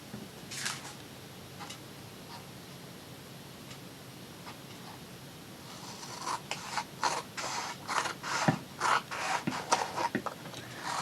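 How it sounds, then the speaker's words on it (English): Excess paper is cut away while making a lapbook. A quiet pause gives way to a quick series of close, rhythmic cutting snips and rustles. "now we're going to take and cut off this excess."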